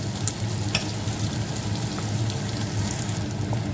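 Green plantain sautéed in a pan for a Jaffna-style curry gives a steady, close sizzle with a few scattered ticks and pops and no talking.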